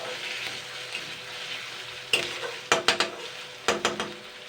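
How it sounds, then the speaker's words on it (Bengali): Onion and garlic sauté in a pan with a soft continuous sizzle, punctuated by bursts of a spoon scraping and clinking against the metal in quick clusters. "জাস্ট দুই দুই মিনিট মতন কষিয়ে নিতে হবে হালকা পেঁয়াজ রসুনের গন্ধ থাকবে"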